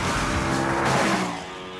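An Ascari A10, a carbon-fibre sports car with a mid-mounted 5-litre BMW M5 V8 making 625 horsepower, roars loudly as it drives, its engine note steady and close before easing slightly toward the end.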